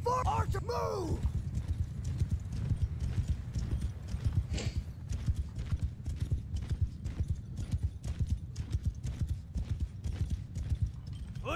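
Many horses gallop in a large cavalry battle in the Mount & Blade 2: Bannerlord video game, a dense continuous drumming of hooves with an occasional neigh early on, steady and close throughout.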